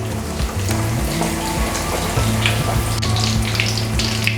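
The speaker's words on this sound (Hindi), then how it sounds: "और मैं अब इसमें फ्राई कर लूँगी।" Food frying in oil in a pan for a mac and cheese lava cake, a steady close crackling sizzle with bursts of popping, no talk over it.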